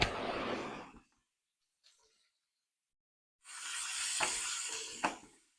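Bacon sizzling in a pan, a loud hissing burst that stops, a quiet gap, then a second long crackling sizzle with a couple of sharp pops, heard up close without talk.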